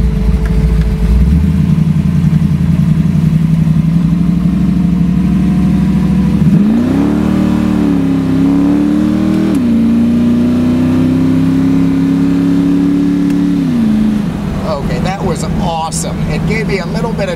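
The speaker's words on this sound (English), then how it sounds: "Bit of drift and wheel spin at the start, and that was maybe half throttle." A 1970 Dodge Dart Pro Street muscle car with a hood scoop revs loudly at about half throttle, its engine note rising and holding with wheel spin and drift, a steady close roar through most of the stretch before easing off near the end.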